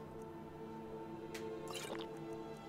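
Eating stew and drinking water in the video game Skyrim produce soft dripping, liquid squishes and a couple of brief wet bursts over a steady hum of background music.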